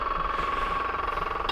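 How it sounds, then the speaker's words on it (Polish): A steady mechanical drone with a constant midrange hum from a hydraulic soil sampling machine driving a probe into a field nearby, continuous and fairly loud with no pauses. "Słychać za mną, jak pracuje maszyna."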